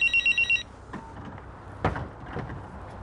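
A telephone bell gives a loud, rapid ring in five quick pulses right at the start, then stops. Quiet room noise and a couple of soft thumps follow.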